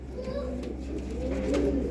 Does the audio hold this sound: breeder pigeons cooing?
yes